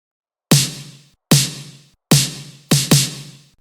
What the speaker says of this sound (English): Simple, and then just a snare pattern